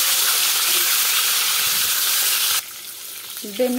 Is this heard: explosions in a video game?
no